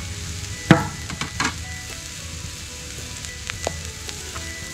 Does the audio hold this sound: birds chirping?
no